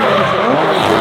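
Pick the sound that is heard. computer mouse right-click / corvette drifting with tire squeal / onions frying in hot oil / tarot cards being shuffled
corvette drifting with tire squeal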